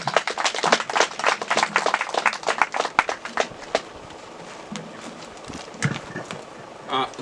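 An audience at a groundbreaking ceremony gives a round of applause: a dense burst of clapping that thins out over several seconds into scattered claps and background noise.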